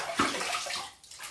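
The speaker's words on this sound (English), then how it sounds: "Let's rinse." A safety razor is rinsed under running water, a brief close splash and gurgle with a sloshing swell that fades quickly.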